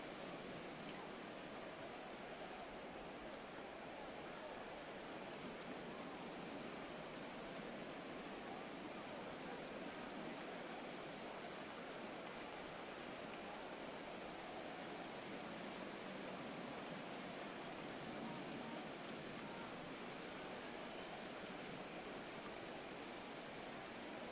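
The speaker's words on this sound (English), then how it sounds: "The rain set to continue as we are underway in the second half." Rain falls steadily on a stadium in the video game Madden NFL 24, a faint, even hiss that continues unbroken throughout.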